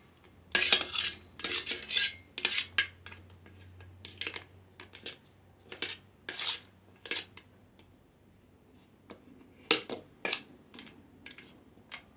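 Stirring cream in a small container while making homemade lipstick: irregular close scraping and clinking taps of a utensil against the container, coming in short bursts with pauses, no talking.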